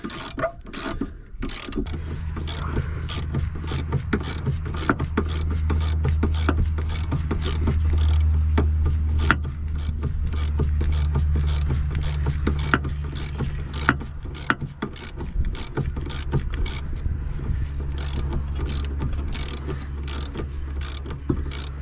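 A bolt on a sway bar end link of a 1990 Volvo 740 tightened with a ratchet, rapid repeated clicking over a steady low droning hum, close and fairly loud, no talking.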